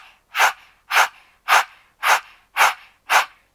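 A voice imitates a small dog panting, with six evenly spaced, breathy huffs in a steady rhythm, close and clear with silence between each breath.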